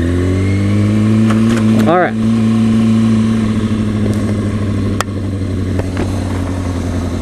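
A small 250cc motorcycle idles and revs in a parking lot with its exhaust note. One quick rising rev climbs and falls early on, over a steady close engine drone, and someone speaks briefly.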